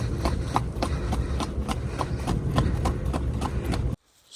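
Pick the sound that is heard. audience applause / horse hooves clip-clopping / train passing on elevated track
horse hooves clip-clopping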